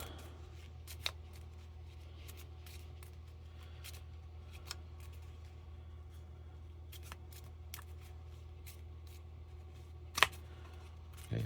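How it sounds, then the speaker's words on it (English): Quiet shuffling of driver cards from a tabletop stock car racing game, with soft scattered flicks and taps over a low steady hum and a sharper snap near the end. "shuffle the driver cards"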